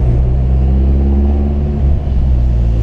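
Renault Clio with a faulty gearbox, its engine rumbling loud and close while the car lurches, with one jolt and a brief dip in the engine sound near the two-second mark.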